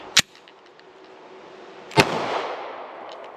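Two sharp, loud pistol shots from a surplus Zastava M88 9mm Tokarev, spaced about two seconds apart, each followed by a brief echoing tail.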